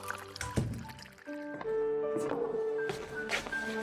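Water pours into a glass indoors, a rising filling tone building over a few seconds with splashy onsets, heard fairly close and alone.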